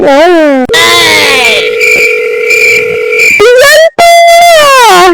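Electronic phone tones sound in sequence: a steady ringback-like tone, then short beeps and rising tonal sweeps, loud and close.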